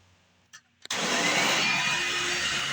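An Oreck XL Classic upright vacuum cleaner from 2008 switches on after a couple of faint knocks, then runs with a loud, steady broadband roar that holds without a break to the end.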